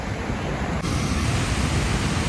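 Ocean surf at a beach in Brazil, a loud, constant broadband roar of breaking waves with wind-like hiss and no voices.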